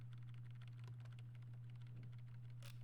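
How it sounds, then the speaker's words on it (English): Computer keyboard keys tapped in rapid repeated bursts while playing Just Shapes & Beats in a speedrun, faint clicks over a steady low hum. "if you hear me, I'm spamming my right keys"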